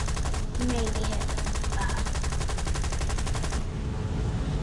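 A plane's guns fire in the video game War Thunder as a rapid, evenly pulsing burst of several seconds over constant engine drone, then cut off abruptly.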